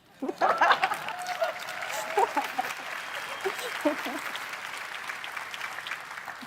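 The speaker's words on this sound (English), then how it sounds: "clap if you want" Audience clapping breaks out at the Google I/O 2025 developer keynote, rising quickly to a burst with a few whoops and laughs, then settling into softer, steady applause.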